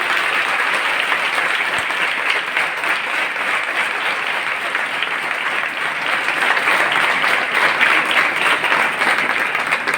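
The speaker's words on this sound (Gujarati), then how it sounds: "જોરદાર તાળીઓ થઈ જાય" An audience at a Gandhi Jayanti quiz celebration claps loudly and steadily, a dense wash of applause that holds for the full stretch with no pause.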